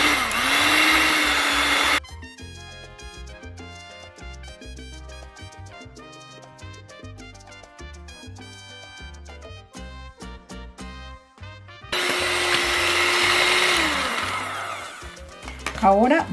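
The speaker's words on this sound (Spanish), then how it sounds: "vamos a revolver la mantequilla y el azúcar blanca. Para esto vamos a estar utilizando una batidora." An electric mixer creams butter and white sugar for an apple sweet bread, starting slowly. Its whirring, shifting motor whine is heard at the beginning and end, with music filling the middle.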